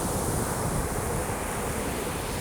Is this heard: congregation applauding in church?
no